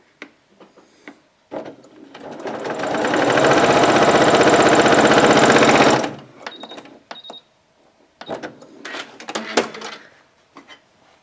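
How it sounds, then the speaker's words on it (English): A sewing machine stitches quilt binding strips together in one steady, fast run of about four seconds, loud and close, with quieter fabric handling and clicks before and after. "So now I'm just going to sew across there from that point to that point."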